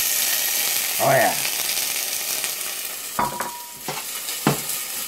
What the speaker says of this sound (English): Want to get yourself a nice wooden spoon. Just give it a quick stir.